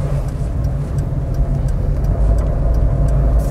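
A car picks up speed during a road-test driving lesson, its engine rumbling in a steady, close drone that builds slightly toward the end, with no talking.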